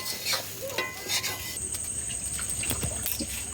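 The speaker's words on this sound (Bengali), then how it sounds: "এবার চালটা দিয়ে একটু নাড়াচাড়া করে নেব, ভালো করে নাড়াচাড়া করে নেব।" Uncooked basmati rice is stirred and tossed in a pan for pilau, giving repeated scraping, rustling strokes over a soft sizzle, with a steady high tone entering partway through.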